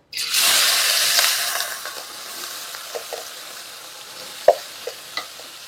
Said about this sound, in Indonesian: Ini aku tumis dulu ya untuk si sambelnya